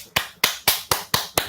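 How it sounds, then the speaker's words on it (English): Six sharp hand claps in an even, steady rhythm, close and crisp, with brief silence between each. "Is it a good time to clap my hands now?"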